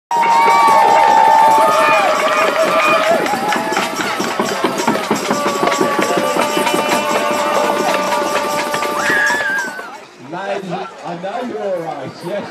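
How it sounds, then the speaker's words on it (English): Children at an outdoor winter wassail at an arboretum shouting, screaming and cheering together as loudly as they can, a dense, loud crowd roar lasting about ten seconds before dropping to scattered voices and chatter. "all the boys and girls who count to three will make as much noise as possible"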